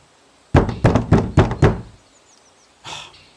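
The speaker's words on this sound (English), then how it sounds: "Still no answer, even after a third knock." Five firm knocks on a door in a quick, slightly uneven rhythm, loud and close, followed after a pause by a softer single thud.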